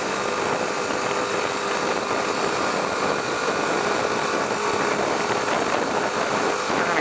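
A BMW G310R motorcycle engine while riding, giving a steady droning hum mixed with heavy wind rush, continuous and fairly loud with no talking.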